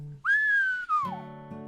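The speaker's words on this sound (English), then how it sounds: "I whistle." A single person whistles alone, close and clear: a short rising note that holds steady, then glides downward into a lower, buzzier tone for a moment before fading.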